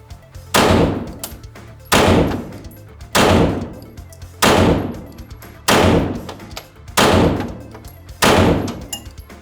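Handgun shots ring out at an indoor shooting range, seven loud sharp reports spaced evenly about every second and a half, each with a short echoing tail.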